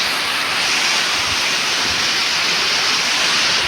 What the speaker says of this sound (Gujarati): ને આ બાજુ તમે જુઓ વરસાદ ચાલુ જ છે.